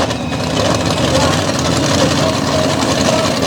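Pair of Chevy-bodied monster trucks idling as they stage to race in an arena, a loud, steady, deep engine rumble filling the whole span with no breaks.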